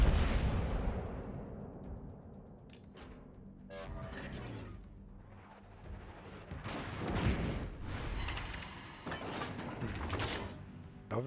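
Heavy ship guns boom in a naval battle video game, several loud broadband blasts with rumbling tails over a constant engine-like background drone, spread irregularly across the scene.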